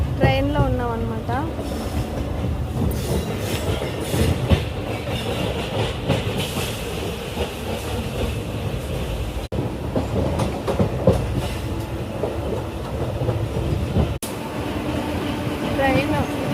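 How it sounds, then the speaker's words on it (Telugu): Train running beside a freight train that seems to carry cement, heard from inside a passenger coach on the way to Pune: steady loud rumble with rolling clatter and a squeal early on, while people talk over it. "పని మీద పూణే వెళ్తున్నాము. ట్రైన్లో ఉన్నాం అన్నమాట."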